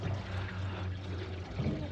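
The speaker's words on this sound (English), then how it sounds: "Getting this water filled up." Steady rushing water pouring into a container, a constant low gurgling flow with no pauses.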